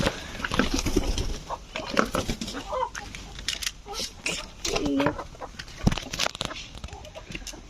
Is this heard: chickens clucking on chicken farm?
yes